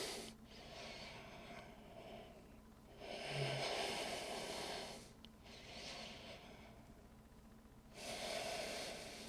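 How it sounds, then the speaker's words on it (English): Deep, slow yoga breathing: long breathy inhales and exhales rising and falling in about three broad cycles, close and fairly soft, with no talking. "Breathing in deep into your belly, into your chest."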